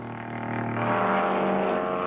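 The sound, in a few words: sports cars howling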